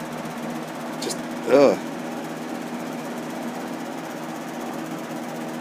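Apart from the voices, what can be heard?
electric fan running on high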